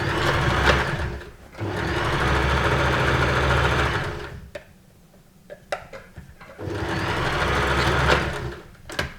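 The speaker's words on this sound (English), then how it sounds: "And now we can stitch across the bottom." A sewing machine stitches across the bottom of a lips-shaped welt pocket, running in two close, loud bursts of rapid mechanical whirring separated by a pause with small clicks and handling noises.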